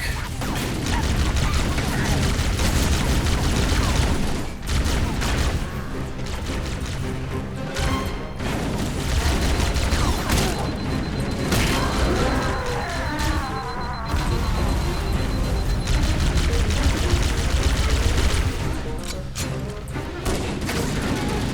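Pistol gunfire and battle noise fill a Halo video game match, a dense continuous wash of shots, impacts and mechanical clatter with sharp bursts, played loud throughout with occasional voice under it.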